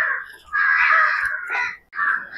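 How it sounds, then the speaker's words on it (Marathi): Crows caw near the entrance of the ancient Jogeshwari rock-cut caves in Mumbai, with two or three harsh, drawn-out calls close by and brief gaps between them, heard alone without talking. "पक्ष्यांचा आवाज येतोय।"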